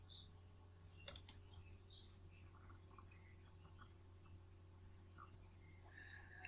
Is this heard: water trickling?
no